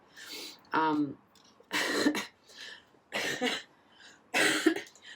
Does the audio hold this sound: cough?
yes